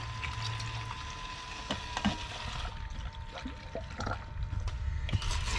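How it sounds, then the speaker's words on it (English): A small condensate pump drawing water out of an HVAC drain pan, a low steady hum with trickling, gurgling water and occasional clicks, quiet and close. "And then we're going to let this thing pump the water out of the pan."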